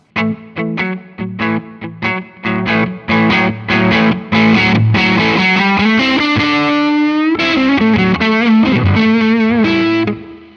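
Clean rhythm guitar through a Chase Bliss Automatone Preamp MKII pedal, strummed chords in quick repeated stabs that give way to a longer sustained, ringing passage, loud and close with no talking.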